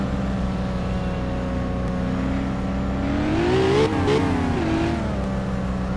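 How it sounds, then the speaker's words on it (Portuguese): A tuned car engine in the video game My Summer Car drones loudly and continuously, its pitch climbing as it revs harder midway, then easing slightly toward the end. "O bicho tá acelerando demais"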